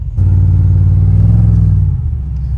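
Deep, steady engine drone from a 800hp LT4-powered Cadillac Escalade SUV on the move, loud and close with a low rumbling hum that holds even throughout.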